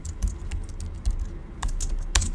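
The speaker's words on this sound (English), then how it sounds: "Type in the text in the description." Keystrokes on a computer keyboard while entering ad text, a quick irregular run of close, light clicks with small pauses between bursts and no talking.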